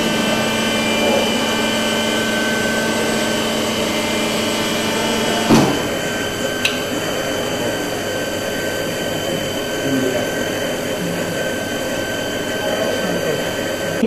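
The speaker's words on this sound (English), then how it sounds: "what you see is a vertical milling machine, a conventional, traditional vertical milling machine." A conventional vertical milling machine cuts metal in a steel technology lab, giving a steady droning hum with tonal whine. A sharp click lands near the middle.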